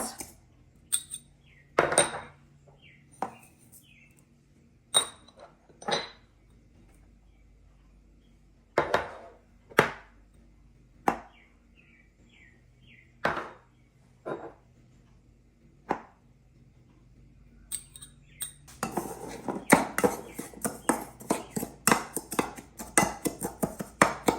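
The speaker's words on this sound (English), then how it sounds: "Now I'm going to combine my ingredients, all the dry ones." Dry ingredients for BBQ ribs are stirred in a small bowl, giving sparse, sharp clicks and taps of a utensil against the dish with quiet gaps, then a denser run of quick scraping clicks near the end.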